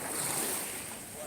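Warm sea water sloshing around a swimmer, heard as a soft, steady surf wash mixed with wind buffeting the microphone, with no clear talking.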